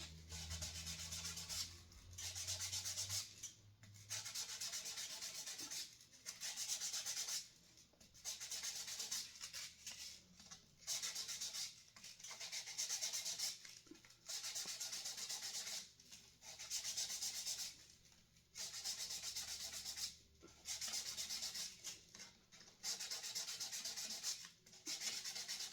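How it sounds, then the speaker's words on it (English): 800-grit sandpaper rubbed over the body of a Gretsch G5420T guitar, a close, raspy swishing in repeated strokes about two seconds each with brief pauses between, steady and moderately loud with no talk. "I probably won't do the edges till I get to a little finer sandpaper"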